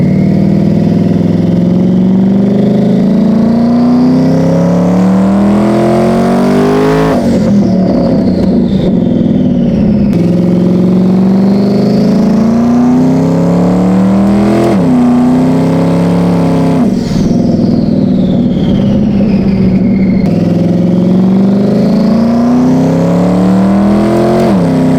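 A roughly 1300-horsepower drag race car roars at full throttle, its loud, close engine climbing in pitch through repeated gear shifts as it accelerates hard down the strip.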